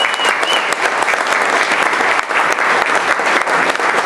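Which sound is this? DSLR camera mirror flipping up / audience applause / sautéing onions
audience applause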